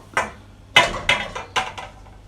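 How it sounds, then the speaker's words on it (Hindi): Carrots are tipped into a metal kadhai (wok) for gajar halwa, giving a short run of about five sharp, clattering knocks in quick succession, close by and with no voices. "सबसे पहले मैं कढ़ाई में डाल देती हूँ गाजरें।"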